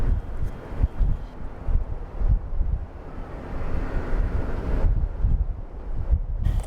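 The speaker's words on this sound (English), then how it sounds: "It is windy, it is stormy" Strong gusty wind from a storm in a small New Mexico town buffets the microphone with rumbling, surging low roars that rise and fall unevenly throughout, with no voices.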